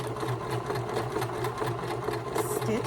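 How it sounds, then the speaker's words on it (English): A sewing machine runs steadily nearby, a fast rhythmic mechanical whir of stitching throughout. "here I am at my sewing machine"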